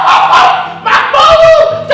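A dog gives a few short, yipping barks close by, in a happy and excited tone, with brief whimper-like notes between them.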